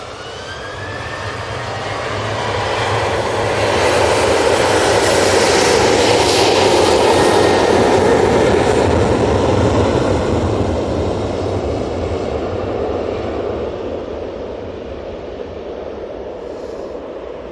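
TUI passenger jet at Manchester Airport, engines swelling into a loud rumbling roar that peaks midway, then eases back into a lingering wash, with a brief rising whine early on.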